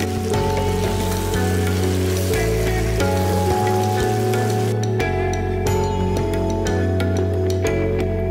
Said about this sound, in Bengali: এবার তাতে সেই মাখানো মাংস দিয়ে ভেজে তুলুন।